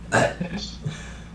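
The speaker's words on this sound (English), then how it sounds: "Did you hear the burp?" A single loud, abrupt human burp close by, short and throaty, trailing into faint low murmurs.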